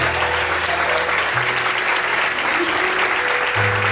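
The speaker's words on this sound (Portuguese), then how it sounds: "Você pode aplaudir e exaltar a Deus" A church congregation claps together during a Sunday morning sermon, dense continuous applause filling the room at steady loudness, with low sustained organ or keyboard tones beneath it.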